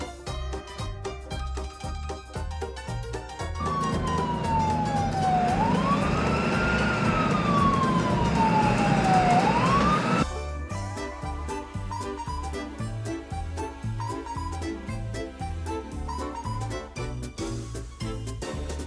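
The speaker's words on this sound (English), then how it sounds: "Ambulance." Wailing ambulance siren from a children's cartoon, a loud sweeping tone rising and falling over several seconds against busy cartoon music, which carries on alone after the siren cuts off.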